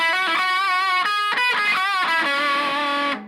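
An electric guitar from a beginner kit plays through an effects unit, giving a run of distorted, sustained notes and chords that ring out clearly alone before cutting off.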